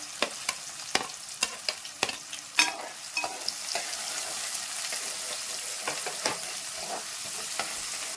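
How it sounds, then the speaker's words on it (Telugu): Onions fry with a bright, steady sizzle in a pan while a utensil stirs and taps against the metal in quick, regular clicks, close and clear. "ఆనియన్స్ కొద్దిగా బాగా ఫ్రై అవ్వాలి. బ్రౌన్ కలర్ వచ్చేంత వరకు మనం వేయించుకుందాం."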